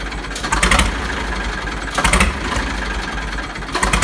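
A 1994 Swaraj 735 FE tractor engine idles steadily and loudly nearby, a continuous rough rumble with a few brief surges in revving along the way.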